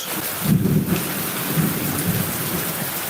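Heavy rain pours steadily during a thunderstorm, with a deep rumble of thunder swelling early on, all loud and continuous.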